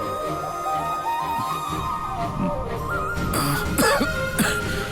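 A man coughs several times in a short, harsh burst, close and fairly loud, with background music underneath.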